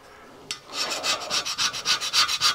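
An old file with a brazed carbide tip, used as a hand scraper on metal, rasps in a quick series of about a dozen rhythmic strokes, close and clear with no talk.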